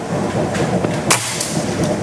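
A single sharp shot from an FX Black Venom PCP air rifle charged to 2100 PSI, one crisp crack about midway through, close and loud over steady background noise.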